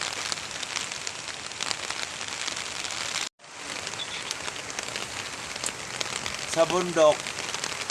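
Steady typhoon rain pours across the mountainside, a dense hiss of drops on surfaces that cuts out briefly before resuming, with a voice speaking over it.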